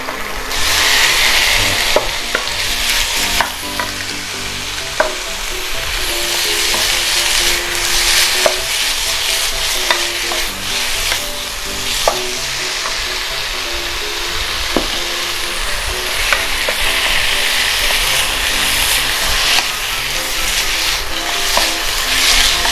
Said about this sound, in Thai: แล้วก็เริ่มผัดหมูเลยครับ